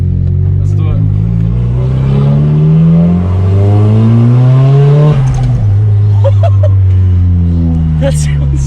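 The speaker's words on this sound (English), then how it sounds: "But this is the first drive with the new manifold." A Nissan S15 on its first drive with a newly installed exhaust manifold, its engine loud and close as it revs up through the gears in rising sweeps, drops briefly on a shift, then climbs again, with a voice heard faintly beneath.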